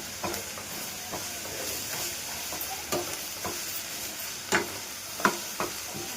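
Chilli powder, turmeric and ginger garlic paste stirred in a hot pan for samosa filling, a steady sizzle broken by scraping spoon strokes and clacks against the pan, close and alone.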